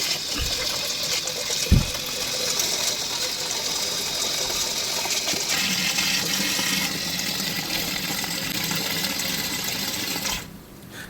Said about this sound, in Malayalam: ഇനി ആ വെള്ളം നിറയുന്നുള്ളതൊന്ന് വെയിറ്റ് ചെയ്യുക.